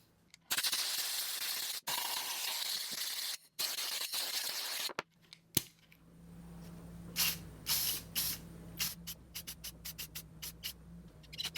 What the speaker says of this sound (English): I'm going to give it a spray finish.